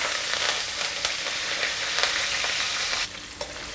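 Curry leaves sizzle and crackle in hot oil in a home kitchen for a garlic pepper kuzhambu, with sharp pops and stirring scrapes over a steady frying hiss that drops in loudness near the end.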